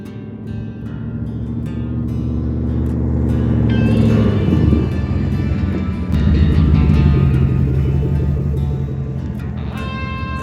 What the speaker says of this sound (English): is my 1992 Dodge Dakota V8, Dr. Thunder V2, the Helidactyl.